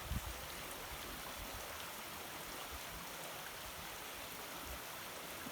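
A river flowing beside a rural property makes a steady broadband rush of moving water, constant and moderately distant, with no voices.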